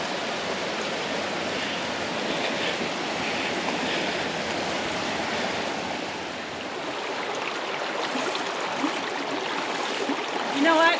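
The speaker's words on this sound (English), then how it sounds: "Oh, there's a spring coming right out of here." Spring water pours steadily out of rock in a Utah slot canyon, a continuous close rushing flow that holds at an even level throughout, with no other sounds standing out.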